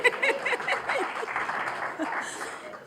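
A small party crowd applauds a cocktail called the Collabotini, with brief clapping mixed with chuckles and laughter from people close by.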